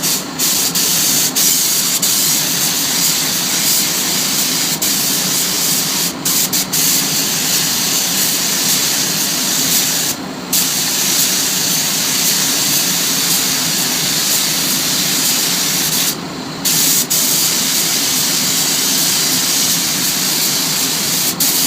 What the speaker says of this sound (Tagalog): The spray gun from the panel.